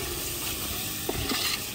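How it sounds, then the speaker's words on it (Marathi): Chicken frying in a pan being stirred, a constant close sizzle with a few scraping stir strokes on top. "आता त्याला ढवळून घ्यायचं."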